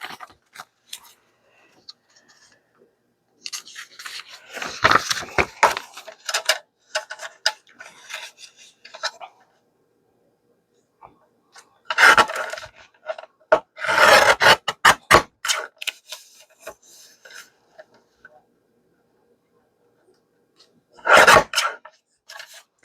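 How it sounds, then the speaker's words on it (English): Paper journal pages being trimmed along their white edges, with several separate rasping, scissor-like cutting bursts spread across the clip and quiet gaps between them, close by with no talking. "I don't want white on the edges. So I am going to trim those off."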